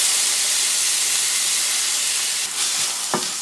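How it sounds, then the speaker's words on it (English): Onions and garlic sizzle in butter in a pan, a steady, close frying hiss that carries on throughout with a soft stir or knock near the end. "I'm gonna put all of our onions and garlic straight in there."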